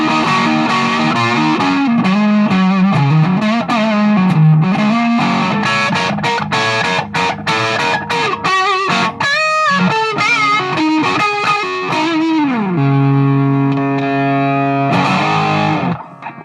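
Electric guitar played through a Boss DS-1 distortion pedal on the neck pickup, loud and sustained, with chords and quick runs before a held, ringing chord near the end; no talking.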